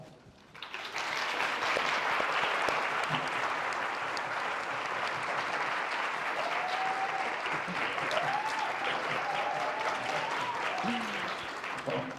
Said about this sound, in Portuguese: Um aplauso para vocês também, né?